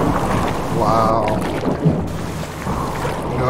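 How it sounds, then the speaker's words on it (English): Gusty wind howls steadily in the survival video game Subsistence, a broad rushing roar with whistling swells that stays loud and continuous throughout. "This wind comes with every rain, and it comes with a screeching scream and howling wind."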